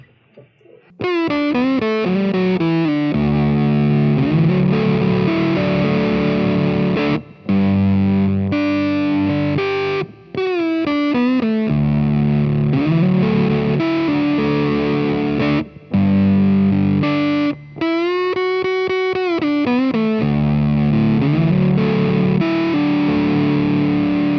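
Heavily distorted electric guitar through Waves MDMX distortion plugins plays sustained chords and runs with brief gaps between phrases, thick and saturated, with no talking.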